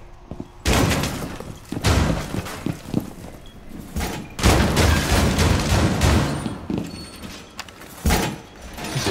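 Semi-automatic breaching shotgun fired in Rainbow Six Siege on the Kafe map: about three heavy booming blasts spaced a few seconds apart, each with a rumbling tail and quieter thumps between.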